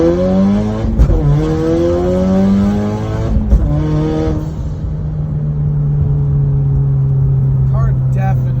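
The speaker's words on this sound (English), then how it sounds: "we'll get an outside clip of the exhaust as well" Fully built car with a Turbonetics NX2 turbo accelerating hard, its exhaust note rising through several gear pulls, loud and close, then settling to a steady drone.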